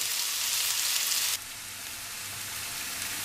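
Mushrooms sizzle and fry steadily in a pan, a constant crackling hiss that drops slightly in intensity partway through.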